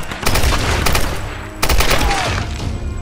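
Enemy gunfire in the video game Tomb Raider, heard as two loud, close bursts of rapid shots, each lasting about a second and a half, separated by a brief lull, with no talking over them.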